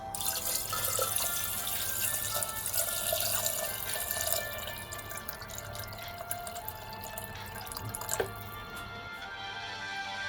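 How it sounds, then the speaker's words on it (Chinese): Water runs steadily from a tap into a clay pot holding pork ribs for radish rib soup, a continuous close splashing fill with faint drips, no voices. "将排骨放进砂锅里， 多加水，没过排骨，"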